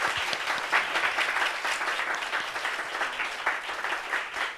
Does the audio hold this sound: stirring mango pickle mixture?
no